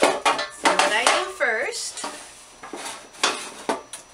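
Metal loaf pans clatter and scrape as they are handled on a counter while being greased for banana bread, with a person speaking briefly over the clanking.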